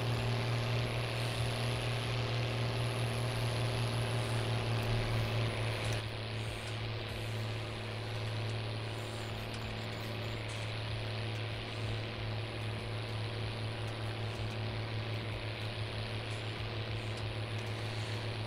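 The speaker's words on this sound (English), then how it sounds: "if this tractor's struggling with this trailer" A tractor engine hums steadily while pulling a trailer, a low, constant drone that holds at a moderate distance throughout with no speech.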